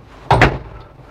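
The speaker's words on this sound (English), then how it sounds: "You can kind of tell by the way it sounds when you close it." A solid wood door in a 2015 Winnebago Journey 40R motorhome swings shut with a single firm, close thud, followed by brief quiet.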